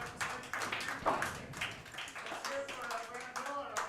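Applause from the audience at a women's pool tournament final, moderate clapping running throughout while commentators' voices talk over it.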